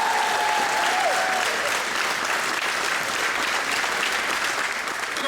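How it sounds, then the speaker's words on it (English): A crowd applauds store associates at a Home Depot grand opening in Renton, with loud, sustained clapping running unbroken from start to finish and a faint cheer near the beginning. "can I get a round of applause for my associates, please?"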